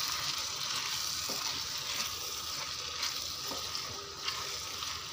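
Vegetable curry sizzling and being stirred in a pan, a steady soft frying hiss with faint scraping stir sounds throughout, no voices.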